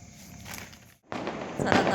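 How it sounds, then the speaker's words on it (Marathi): Firecrackers burst in a village at night, heard as sharp, scattered cracks at moderate distance, with a brief quiet gap before a louder, denser cluster of pops. "गावात फटाके वाजतायत"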